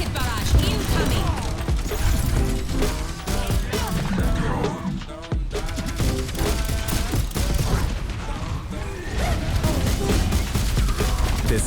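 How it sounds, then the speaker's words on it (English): A rocket barrage in the Overwatch video game, a loud, continuous stream of rapid blasts and impacts rolling for several seconds with a brief lull midway, under busy game noise and occasional voices. "Rocket barrage incoming."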